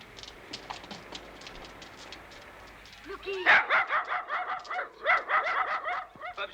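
Several dogs break into a run of rapid, close barks and yips after a quieter stretch, the barking clustered in quick repeated bursts.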